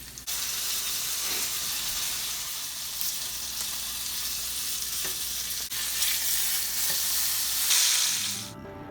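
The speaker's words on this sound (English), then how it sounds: "when your pan is nice and hot, just go ahead and stick your crab in there" A soft shell crab goes into a hot pan and fries, a loud, continuous close sizzle that rises briefly near the end with faint clatter.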